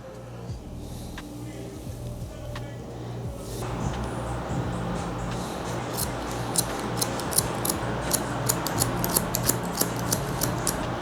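Barber scissors cutting hair during a modern mullet cut, a run of crisp snips that starts in the second half and grows more regular, over a steady background hum.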